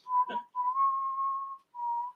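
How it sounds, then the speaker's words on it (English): A person whistles a slow melodic tune, clear, pure sustained notes with a short pause between phrases, close and alone without talk. "I'm just gonna whistle."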